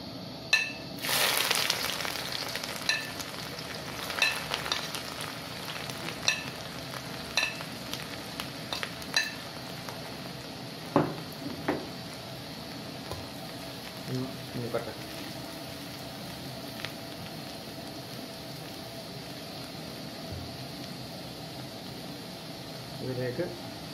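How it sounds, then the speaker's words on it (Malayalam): Ginger and garlic frying in hot oil for cauliflower chilli, with a soft sizzle, scattered stirring clinks and a faint hum in the background, and occasional talk over it. "അപ്പോൾ അതിൻ്റെ അകത്തോട്ട് ഇഞ്ചി വെളുത്തുള്ളി ഇട്ട് കൊടുക്കാം."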